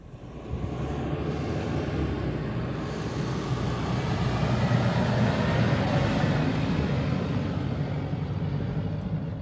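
A 2025 Toyota Land Cruiser 250 driving off-road, its engine and tires a steady, close, broadband rumble with crunching terrain noise and no talk.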